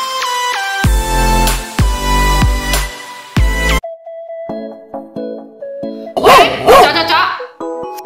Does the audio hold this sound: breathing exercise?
no